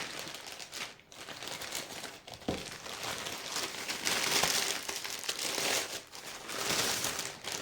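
A parcel torn open by hand with no cutter, crinkly packaging rustling and crumpling steadily at close range for several seconds, with a few sharper rips and crackles.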